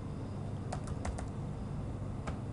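Someone types a product size option on a computer keyboard: a short burst of about five quick keystrokes, then a pause and a single final tap, close and fairly quiet over a faint room hum.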